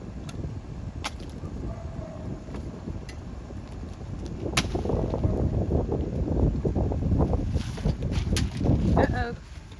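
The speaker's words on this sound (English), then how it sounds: "The wind's getting up." Wind blowing outdoors, a steady low rumbling rush on the microphone that swells louder partway through, with scattered clicks and knocks from handling old roofing shingles at a transfer station.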